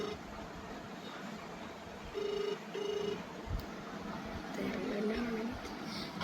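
A phone call being placed, two short ringing tones sounding through a phone's speaker amid background noise, with people talking nearby.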